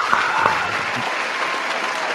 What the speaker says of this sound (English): I forgot my applause.